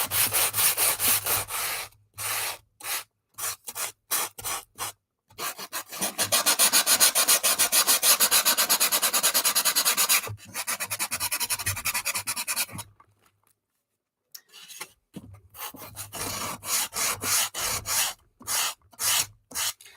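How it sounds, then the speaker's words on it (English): Repeated rasping strokes of a sanding block rubbing back and forth on wood, in bursts with short pauses and one longer stretch of steady scrubbing. "Sanding block is your friend."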